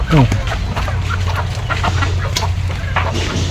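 Free-range country chickens cluck close by under a steady low hum, with a voice speaking over the birds on a small poultry farm.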